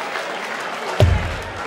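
Darts crowd at a tournament cheering and applauding for a Dutch player, a burst of clapping and cheers rising suddenly near the end over a background murmur.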